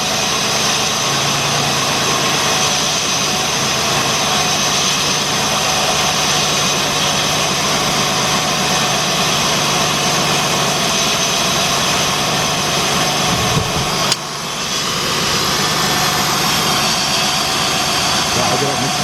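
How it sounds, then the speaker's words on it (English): A 2006 Jeep Grand Cherokee Laredo 3.7 V6 idles steadily with a cylinder 3 misfire, a loud continuous engine drone that runs throughout with a brief dip near the end. "when the idle comes down a little bit, you can really see the misfire"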